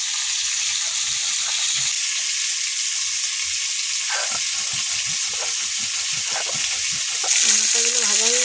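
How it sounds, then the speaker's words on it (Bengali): Pieces of silver carp sizzle and crackle in hot oil in a pan, a constant close frying hiss that swells into a louder, bubbling burst near the end. "মাছ ভাজা হচ্ছে"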